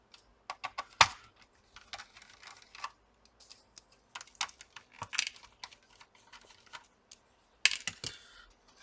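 Screws being removed from a Lenovo B590 laptop board: sparse, close metallic clicks and small taps, with a few sharper knocks and quiet gaps between bursts.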